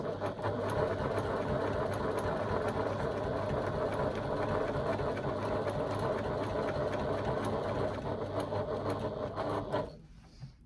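A domestic sewing machine stitches steadily across fabric, a loud continuous mechanical whir that runs unbroken for most of the clip before stopping near the end.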